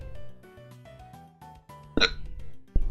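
A single sharp hiccup bursts out near the end, followed by a brief second jolt, over steady background music during a Pokémon trading card game session.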